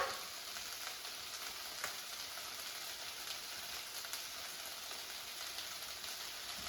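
Eggplant and zucchini pieces seasoned with salt, black pepper, garlic powder and paprika pan-fry in a hot pan, giving a steady, dense sizzle that stays even throughout, with no voices.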